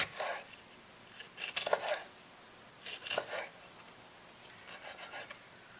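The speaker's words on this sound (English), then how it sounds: "And then I'm gonna cut these peppers." A knife cuts through fresh peppers with a few quiet, scraping chopping strokes in short bursts, close by in a home kitchen.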